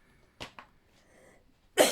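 A couple of short, close coughs followed by a louder, harsher cough at the end, with quiet gaps between.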